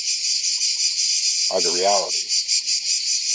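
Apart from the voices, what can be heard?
crickets chirping at sunset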